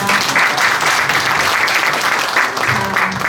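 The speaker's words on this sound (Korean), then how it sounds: "다시 한번 우리 유성일 회장님께 큰 박수 보내주시기 바랍니다." An audience at a Korean book launch celebration claps in a sustained, dense round of applause from many hands, loud and close throughout.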